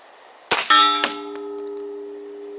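A weak squib-load pistol shot gives a sharp metallic clang, quickly followed by a second ringing strike whose bright tone hangs on, with no talk over it.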